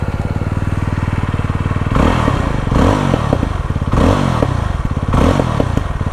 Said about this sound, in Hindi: एग्जॉस्ट जो है दोनों तरफ से निकलता है, मतलब पैरेलल ट्विन इंजन है।